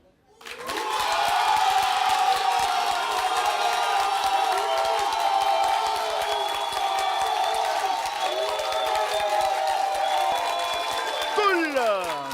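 A studio audience at a family music show applauds and cheers loudly and steadily for a band's performance, a dense roar of clapping and whoops that sustains for about eleven seconds before easing slightly at the end.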